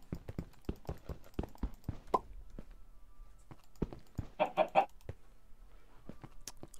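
Chickens in a video game cluck in short, scattered bursts, with one louder flurry of clucks near the middle, fairly close and moderately quiet, with no voices over them.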